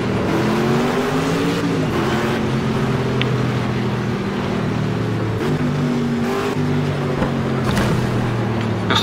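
A Pagani supercar engine in the racing game Project Cars holds a steady, droning hum on a Dubai track, with pitch shifts as gears change and revs rise and fall, loud and close with no talking.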